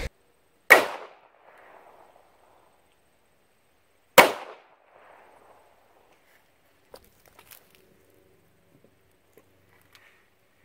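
Gunfire strikes bulletproof drywall during a panic-room test: two sharp, isolated cracks about three seconds apart, each followed by a brief faint rattle, then near silence with a few small clicks.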